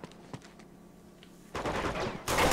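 Bursts of video-game gunfire from Uncharted 2 on PS4: quiet ambience with a couple of faint thumps, then a loud sustained volley of shots from about 1.5 seconds, growing even louder near the end, with no talk.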